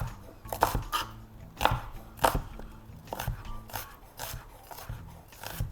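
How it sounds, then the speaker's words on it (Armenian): A knife chops red onion finely on a board, with steady, close, crisp strokes coming in quick bursts and brief pauses throughout. "Բայց կարևորը մի քանի շերտ եմ անում, որպեսզի մանրացնեմ ու այսպես մանր գտրատեմ։"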